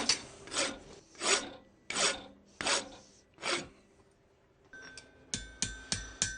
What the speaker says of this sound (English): Using a rasp to straighten out the top edge.